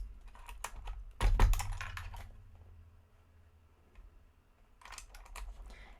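Keycap being pulled off and swapped on Pewdiepie's Ghost mechanical keyboard, a few sharp plastic clicks and a loud clack, a quiet pause, then more clicking and tapping near the end.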